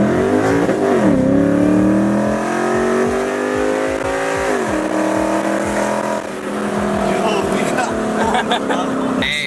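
A manual Nissan 370Z accelerates hard through its gears, its loud engine note rising in pitch, dropping at each shift and climbing again, heard from inside the car with voices speaking over it.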